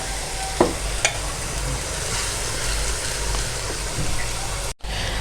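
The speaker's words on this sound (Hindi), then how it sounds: "लहसुन अदरक का पेस्ट में डाल रही हूँ 1 टेबल स्पून।" Garlic ginger paste sizzles and fries steadily in a hot pan, with a couple of brief clinks of a utensil and a short gap near the end.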